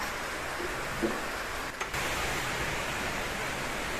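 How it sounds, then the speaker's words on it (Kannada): Light rain falls steadily as an even, close hiss of fine drops that stays unchanged throughout, with no voices and only a brief faint knock near the middle. "ಸಣ್ಣದಾಗಿ ಮಳೆ ಬರ್ತಾ ಇದೆ ಇವಾಗ"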